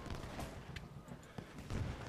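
Musket volleys in the Ultimate General: Gettysburg video game, scattered distant crackling shots and a heavier low boom near the end, fairly faint, with a little voice in the background.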